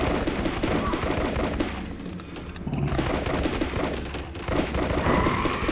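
Heavy booming blasts and rumbling explosions roll on continuously, loud and dense like cannon fire from a demon's shoulder cannons in Constantine the video game, with crackling bursts layered over them.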